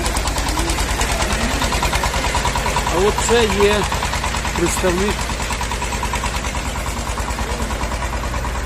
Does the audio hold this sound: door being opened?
no